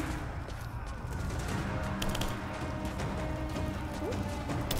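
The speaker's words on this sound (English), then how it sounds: "Maybe they're shooting somewhere else." Video game battle gunfire from Rise of the Tomb Raider crackles in steady dense bursts over a constant rumbling backdrop, with no pause across the stretch.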